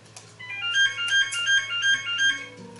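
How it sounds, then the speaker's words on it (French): An electronic telephone ringtone plays a repeating melodic pattern of bright tones for about two seconds. It sounds fairly close and clear over a quiet room, with no talking. "Bon, c'est le téléphone qui sonne, c'est pas grave."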